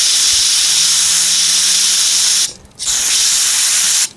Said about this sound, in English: hold it up like that and spray into it until the cleaner comes out clean